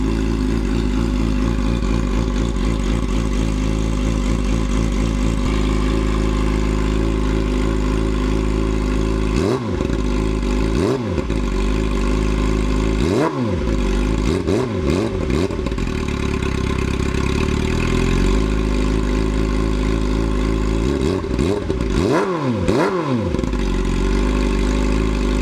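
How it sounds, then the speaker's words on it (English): A 2007 Yamaha R6 sport bike fitted with an Akrapovic megaphone exhaust settles into a steady, throaty idle close by, then gets several sharp throttle blips that rise and fall in quick pairs before dropping back to idle. "That's the new exhaust. It does have a deeper tone to it"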